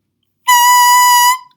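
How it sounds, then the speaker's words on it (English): A clarinet mouthpiece fitted with its ligature and reed, blown on its own, gives a single loud, steady, bright squealing tone lasting about a second, clean and unaccompanied, then cut off. "So that is our mouthpiece, our ligature, and our reed."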